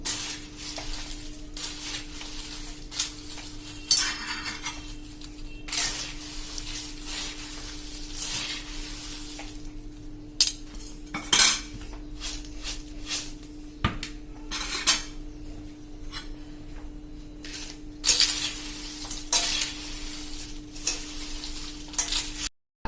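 Homemade Gujarati chevdo being tossed and stirred with masala in a metal pan, giving repeated scraping and clinking of utensil against pan at a steady, moderate level with no talking.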